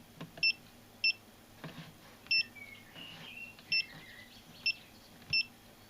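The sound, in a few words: beep from an SRNE hybrid solar inverter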